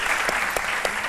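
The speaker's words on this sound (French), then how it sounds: "On applaudit encore très fort" Audience applause fills a live variety-show studio for a performing artist, a dense steady wash of clapping with a few sharper individual claps standing out, loud and continuous throughout.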